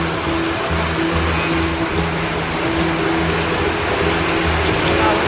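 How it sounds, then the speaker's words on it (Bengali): Heavy rain pours down in a dense, steady roar, with a low intermittent mechanical hum running underneath. "বাইরে কি সুন্দর ঝুম বৃষ্টি হইতেছে এই দেখেন"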